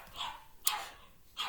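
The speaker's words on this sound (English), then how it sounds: "Sorry about the dog noise." A few dog barks and yips in a house, three short bursts spaced across a second and a half, fairly close and moderately loud with no talk over them.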